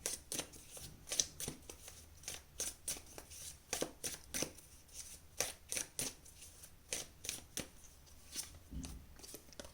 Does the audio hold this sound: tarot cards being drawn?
yes